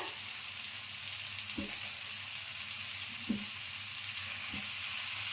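Potatoes fry with green chilies and garam masala in a pan for sukno aalu, giving a faint, steady sizzle and hiss with three soft stirring knocks spaced a second or two apart.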